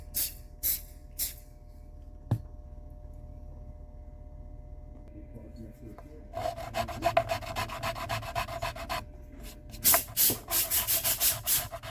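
Scratchy rasping of sandpaper on a wooden Stratocaster guitar body in quick back-and-forth strokes, starting sparse then growing into steady rapid bursts, close up.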